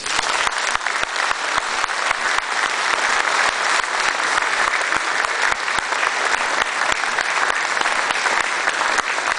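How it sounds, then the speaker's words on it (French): Steady, dense applause from an audience fills the room, loud and continuous from start to finish with no voices standing out above the clapping. "Je vous demande de les applaudir."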